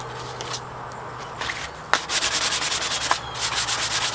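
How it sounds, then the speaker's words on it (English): Fine 600-grit sandpaper rubs back and forth over a wooden bullwhip handle outdoors, making quiet rhythmic rasping strokes that turn faster and more regular in the second half. "I've switched to some 600 sandpaper just to finish this handle off here as far as sanding goes."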